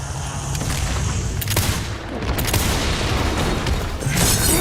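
Frag grenade blast in the video game Resident Evil Requiem, heard as dense, continuous rumbling booms and crackling debris, loud and sustained with a swell near the end, no voices.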